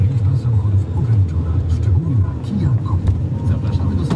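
A used quad ATV engine idles close by with a steady low rumbling chug and slight rises in revs, while people talk over it.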